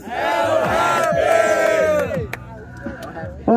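A crowd at an outdoor rap battle in Foz do Iguaçu roars and shouts together in a loud, sustained burst of cheering that tapers into scattered yells before a final sharp shout.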